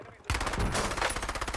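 Automatic gunfire in the battle-royale video game Call of Duty Warzone, a sharp onset followed by a fast, steady rattle of shots, fairly loud and close, with faint talk mixed in.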